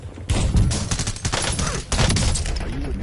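Video game sniper fire, a dense run of loud sharp cracks and booms repeating irregularly for a few seconds, close and unbroken, with no voices.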